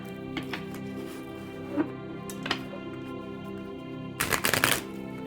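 A few soft card flicks, then a quick burst of riffling as a tarot deck is shuffled together, close and quiet with no talking.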